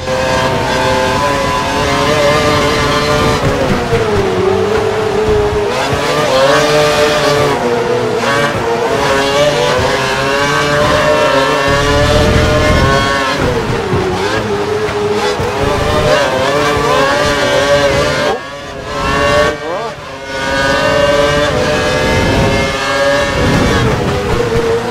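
Formula 1 cars race in the F1 2012 video game at the Brazil track, with high-pitched engines screaming, rising and falling through gear changes and overlapping one another, loud and continuous with a brief dip near the end.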